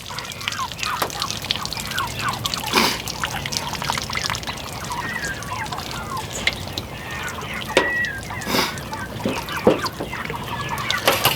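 Water pours and splashes steadily over a freshly butchered pasture-raised chicken carcass being washed, a continuous running rush with occasional sloshes.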